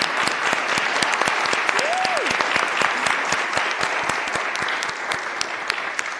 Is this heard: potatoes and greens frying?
no